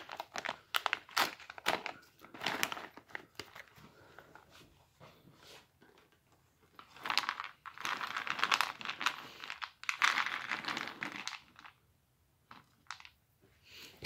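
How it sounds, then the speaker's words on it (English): An MRE nut and raisin mix packet with chocolate discs is torn open at its notch and handled, giving close, continuous crinkling and rustling of plastic packaging with sharp crackles. "Let's get our nut raisin mix with pan-coated chocolate discs opened up."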